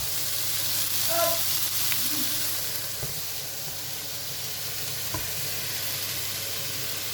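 Guinea fowl sizzles and caramelizes in a pan, giving a steady, close hiss of frying fat with a few light stirring taps and utensil clicks. No one speaks.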